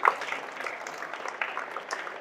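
Scattered applause from a school audience at a government high school tiffin box distribution event, a few light claps spread across a couple of seconds, fairly faint and thin rather than a full ovation, with no talking over it.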